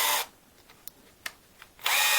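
Keyless self-tightening chuck on a Bosch EasyImpact 12 drill, turned by hand with a few faint clicks and rubs between two short bursts of loud whirring at the start and end.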